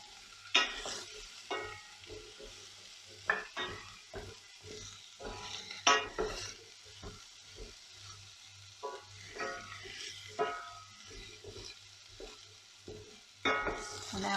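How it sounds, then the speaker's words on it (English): Chopped rhubarb is stirred through spices and asafoetida in a hot pan, irregular scraping and clattering strokes rising over a soft, low sizzle, close by with quiet gaps between stirs. "I'm just reaching for the rhubarb. It can go in. Give it a good stir."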